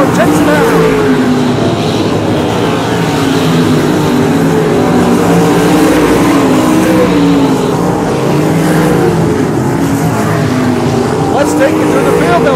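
Sprint cars racing at Boyd Raceway in a Sprint Series of Texas A-Main, engines roaring and droning loudly with shifting pitch as cars circle, under a public-address announcer's voice.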